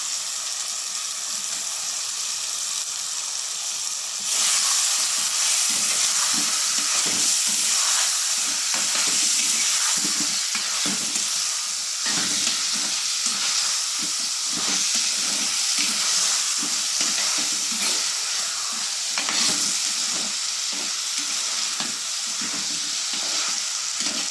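Chicken pieces frying in a pan for Tamil-style chicken curry, a loud, dense, continuous sizzle with steady scraping from stirring that grows louder a few seconds in.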